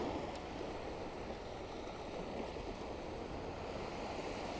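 Ocean surf rolls onto a beach where bream are being caught, a steady washing roar of breaking waves with a little wind and no voices.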